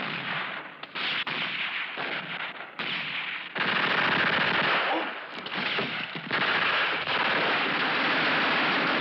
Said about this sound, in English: the other machine gun.